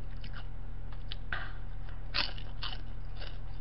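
Crispy fried dumplings are bitten and chewed close up, giving a few sharp crunches over a steady low hum, with no talk.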